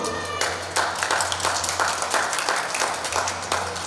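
An audience at a Ramadan takjil cooking demonstration applauds, steady dense clapping rolling on without pause, loud and close.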